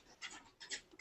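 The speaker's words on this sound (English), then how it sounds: "And that's my dog." A pet dog pants close by in quick, breathy bursts, three short rhythmic huffs in about a second with no voices.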